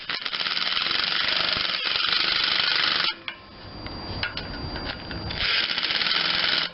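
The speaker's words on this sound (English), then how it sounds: "I'm using a very tiny mini impact gun" A very small mini impact gun rattles Loctite-treated head bolts loose on a Briggs and Stratton 21M314 16.50 engine from an Ariens machine, two loud sustained hammering bursts separated by a quieter stretch of clinks and handling noise.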